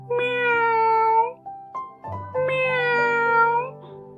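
A cat gives two long, loud meows close by, separated by a short pause with a softer chirp between them.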